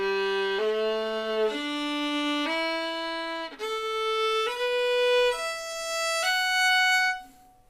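A bowed string instrument plays eight slurred notes in two groups of four, the first set stepping upward and the second continuing higher, each note sustained and smoothly connected with a brief break at the bow change midway; solo, close and clear.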